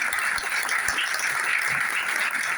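Applause from an audience at a talk in Capilla del Monte, a steady dense wash of clapping that stays fairly even and close throughout.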